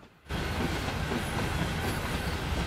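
Freight train in Train Sim World 4 climbing Sand Patch Grade with helper locomotives on the rear, a steady, loud rumble of rolling railcars with faint clickety-clack that swells in after a brief quiet start and holds throughout.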